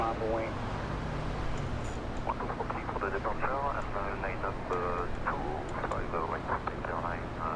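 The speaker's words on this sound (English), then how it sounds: "We have United, a 757-300 powered by RB211s getting a move on," A United Boeing 757-300 with RB211 engines rolls out for departure to Honolulu at Los Angeles International Airport. Its steady engine roar carries on throughout, with radio-like voices talking over it.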